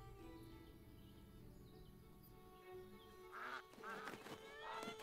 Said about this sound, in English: The duck is attacking me!